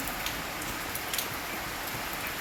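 Dense, even patter of rain falling steadily outside a train, a constant wash of drops with no voices.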